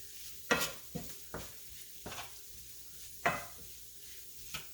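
Taco meat with Southwest seasoning cooks in a pan for a crustless taco pie, giving a soft sizzle broken by several sharp stirring scrapes of a utensil against the pan, close and without talk.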